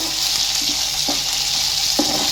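Roasted cumin seeds sizzling in a pan while a Katla fish curry is made, a steady bright frying hiss with a few soft stirring clicks and scrapes, close and continuous with no talking.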